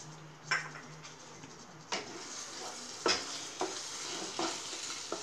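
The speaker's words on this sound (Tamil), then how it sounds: "இப்போ இன்னும் கொஞ்சம் பால் ஊற்றிடலாம்." Milk is stirred into bread halwa in a pan, with a spoon scraping and tapping the pan several times over a soft, steady sizzle.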